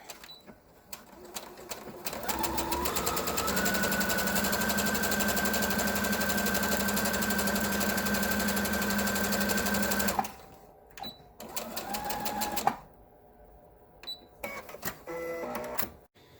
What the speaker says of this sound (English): Sew along the half-inch side.